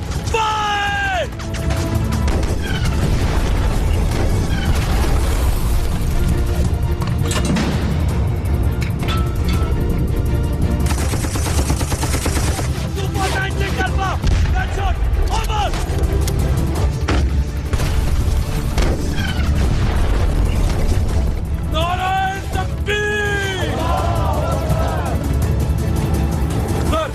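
A battle scene from the 1965 war with tank cannon fire, booming explosions and bursts of gunfire, loud and continuous, with shouted voices and whistling shell sounds mixed through the chaos.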